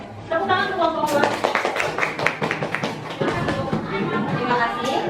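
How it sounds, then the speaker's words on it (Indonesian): Classroom applause for a student group after their presentation, a burst of clapping with scattered taps and chatter from the class, busy and close throughout. "Tepuk tangan untuk kelompok 2"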